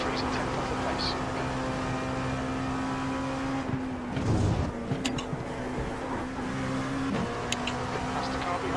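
Race car engines in the iRacing video game at a Petit Le Mans test hold a steady, loud whine that drops and swells through braking and acceleration, with brief clicks and a voice talking over the engine noise.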